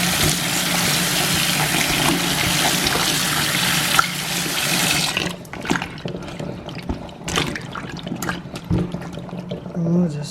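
Tap water runs loudly over small peppers for washing, a continuous close splashing stream that stops partway, followed by quieter wet handling, drips and rustles.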